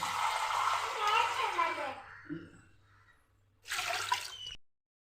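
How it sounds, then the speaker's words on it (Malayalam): Water is poured into a cooking pot of tapioca set to boil, in two bursts of splashing and gurgling, with a quiet pause between and a soft drip. "ഇതിൻ്റെ അകത്ത് കുറച്ച് വെള്ളം ഒഴിക്കുവാണ്"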